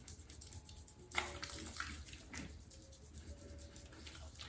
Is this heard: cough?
no